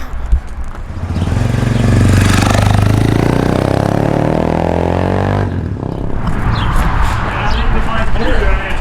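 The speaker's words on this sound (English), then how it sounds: "gonna take it for a real quick test ride, make sure that I didn't mess anything up" A Honda CB300 Scrambler motorcycle pulls away on a quick test ride, its engine close and loud as it revs up and drops through a gear change, then settles into a steady run.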